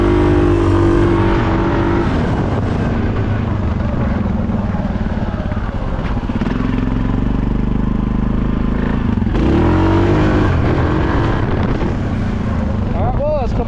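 A Suzuki KingQuad 750 ATV engine holds a loud, steady drone at about half throttle, with pitch shifting slightly as it revs up near the end, close to the microphone.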